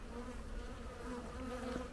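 Agitated honey bees drone in a dense, steady buzz from an opened hive, close and unbroken for a couple of seconds with no voices.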